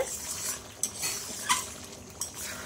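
Close scraping and clinking of a spatula working mutton around a metal wok, soft sizzling underneath, with a few sharper scrapes at irregular intervals.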